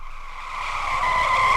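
Car tires skidding as a sound effect leading into a crash, a rising screech that grows louder and brighter over a second and a half, heard alone.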